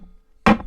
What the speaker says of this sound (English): Oh, that's the sound of our gavel.